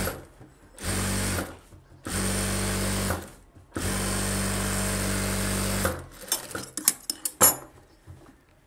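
A sewing machine stitches the back of a blouse in three sustained loud runs separated by short pauses, followed by a flurry of short clicks and taps as the fabric is adjusted.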